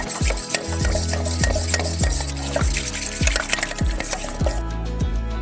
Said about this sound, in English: Whisk this until smooth